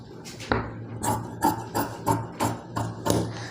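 Scissors cut blouse fabric on a hard table for a boat-neck blouse, a run of about nine crisp snipping and thudding strokes at a steady rhythm, close up and moderately loud over a faint low hum, with no talk.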